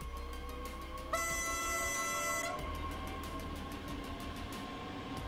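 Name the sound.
BR 442 electric train departing at full power, Train Sim World 3 video game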